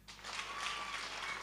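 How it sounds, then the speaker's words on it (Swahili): A full school hall bursts into applause at a senior school prize-giving and AGM, a steady, dense clapping that starts suddenly and sustains at moderate distance. "Makofi."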